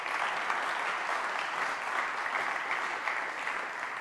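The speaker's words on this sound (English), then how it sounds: "give them all a warm welcome and give them a round of applause" Delegates at a business conference clap together in a steady, dense round of applause that holds at an even level throughout, with no talk over it.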